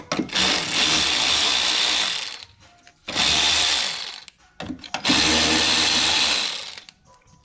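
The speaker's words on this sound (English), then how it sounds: "I'm gonna use my Ingersoll ratchet, electric ratchet." An Ingersoll electric ratchet whirs in three loud, close bursts of roughly two seconds each, with short quiet gaps between, while working on the alternator of a GM 3800 engine.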